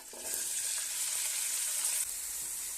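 Steady, close sizzling of peppers frying in hot oil, a bright crackling hiss that continues without pause.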